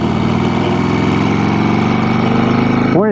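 A custom Harley-Davidson FXR cruiser fitted with a Knucklehead engine runs loud and close, with a steady throbbing rumble that holds even, then surges briefly near the end.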